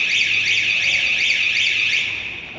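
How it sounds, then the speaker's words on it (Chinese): A magnetic metal detector for aluminum-foil metalized packaging sounds a steady, loud electronic alarm tone after a stainless steel test piece is detected, holding continuously for nearly three seconds before tapering slightly at the end. "检测到异物并报警"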